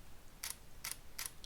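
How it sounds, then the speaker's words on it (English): A Nikon Z6 mirrorless camera's mechanical shutter fires three times in evenly spaced, crisp clicks, quiet and close-up in an otherwise silent room. "That's the shutter sound."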